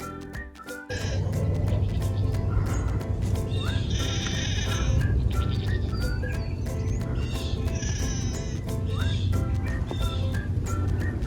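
Nigerian Dwarf goats bleating repeatedly on a farm, several loud nearby calls overlapping over a constant background hum, with other livestock around.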